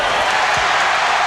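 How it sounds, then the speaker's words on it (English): A large indoor basketball arena crowd at a Bulls vs Magic game roars in a steady, loud wash of cheering that holds without a break. "Crowd loves it."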